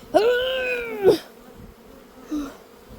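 Honey bees buzz close by at an open hive: one loud, wavering buzz lasts about a second, then a shorter, fainter buzz follows after a gap.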